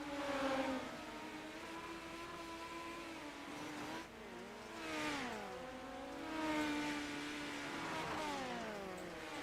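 Midget race cars on the final lap at I55 Raceway, with several engines whining and revving at high pitch as the pack passes, their tones rising and falling in overlapping sweeps at moderate distance, with no one speaking.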